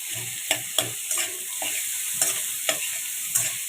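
Onions frying in a little oil for restaurant-style dal makhani, a steady soft sizzle with several sharp clinks of a spoon stirring the pan, no talking.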